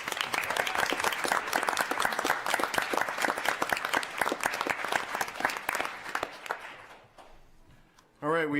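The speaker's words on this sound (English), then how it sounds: "Let's clap them out as they leave." Audience members at a city council meeting give a loud run of crisp, distinct claps that thins out and fades away; a voice then comes in briefly at the end.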